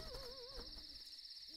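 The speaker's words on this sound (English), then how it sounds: "It's just Rena the Owl" An owl, a cartoon character in a children's pet show, gives a wavering hoot over a steady high electronic tone and low background, then fades after about half a second.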